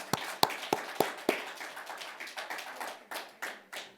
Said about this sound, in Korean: 새해를 주신 우리 하나님께 다시 한번 영광의 박수 올려드리십시다